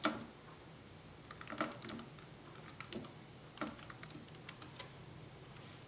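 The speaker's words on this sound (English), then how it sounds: "then I can type him a message" A message typed on a computer keyboard, soft close clicking keystrokes in quick irregular bursts with brief pauses, faint against room hiss.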